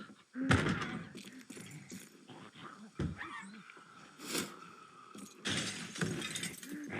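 Glass window panes shatter in several sharp, noisy bursts spread across the clip, with thuds and rustling in between.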